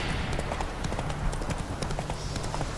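Horse hooves clip-clop steadily in The Witcher 3, a brisk rhythmic gait of soft repeated thuds under a continuous wash of ambient game noise, faint and even.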